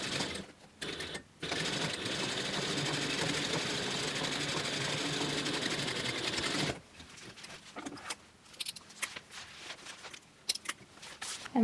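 A sewing machine runs steadily for several seconds stitching a seam on a book bag at stitch length 4, then stops, followed by light handling clicks and rustles of fabric nearby.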